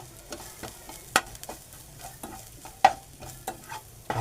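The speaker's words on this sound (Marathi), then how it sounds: "कांदा आपला तांबूस रंगावरती आपण रंग येईपर्यंत भाजून फ्राय करून घेतला फोडणी देऊन" Chopped onions fry in a hot tempering for an ivy gourd (tondli) vegetable dish, with a spoon scraping and clinking against the pan in irregular strokes over a soft, low sizzle.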